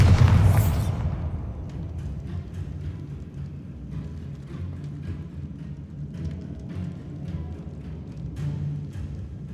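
A Bombarda spell explosion in Hogwarts Legacy opens with a loud booming blast that decays into a rumbling tail, followed by scattered debris clatter and low ambient rumble.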